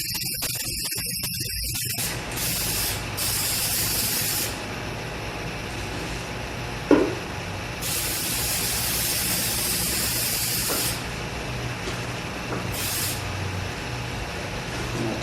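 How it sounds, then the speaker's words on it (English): Spray paint can fired in short hissing bursts onto a pantry storage container being repurposed, several separate blasts of a few seconds each with pauses between, close and fairly loud. "just want to spray in little short bursts"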